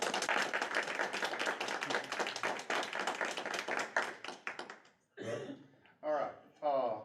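An audience at a municipal election candidates forum applauds the six candidates with brisk, fairly close clapping for about five seconds before it breaks off and a voice speaks.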